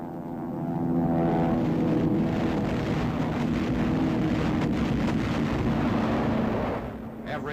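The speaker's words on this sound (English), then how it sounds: "Every type of RAF combat plane is used in this onslaught on German transport, troops, and communications." Allied RAF bomber aircraft engines from World War II drone loudly and steadily, a dense propeller roar that rises and holds before easing off at the end. No one speaks.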